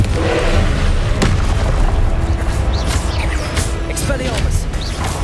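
In Hogwarts Legacy, Confringo spells burst as repeated booming explosions mixed with magical whooshes and crackling combat effects. The sound is loud and close, and a voice speaks over it.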